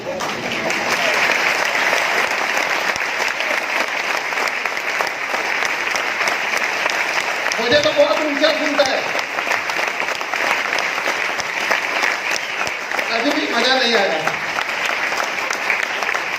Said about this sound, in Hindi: तालियां इधर से ज्यादा बज रही है, इधर से नहीं बज रही